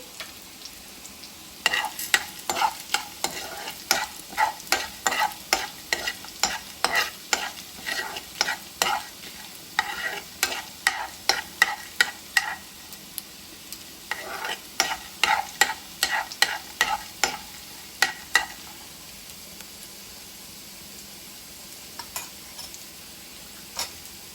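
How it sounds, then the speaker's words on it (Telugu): Cumin, chana dal, urad dal and dried red chilies dry roasting in a pan, with repeated scraping and stirring strokes in bursts and a faint sizzle underneath, close and fairly quiet. "జీలకర్ర, శనగపప్పు, మినప్పప్పు, ఎండుమిరపకాయ ఇవన్నీ వేసి డ్రై రోస్ట్ చేసుకోవాలి"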